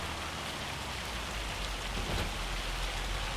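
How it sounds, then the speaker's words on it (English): Steady, dense rain pours down continuously in Farming Simulator 25, a loud even hiss with no talking over it. "Boy, this rain is really falling."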